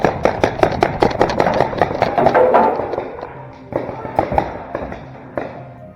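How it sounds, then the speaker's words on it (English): Paintball guns fire cover fire outdoors in rapid bursts of sharp pops, a dense volley followed by scattered single shots, fairly close, with some voices in the background. "So getting some cover fire from his noob teammate, Connor advances up to the next barricade"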